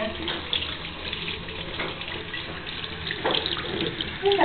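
Water runs from a tap while hands are washed, a continuous splashing stream with irregular bursts as the hands move under it, fairly close, with no talk.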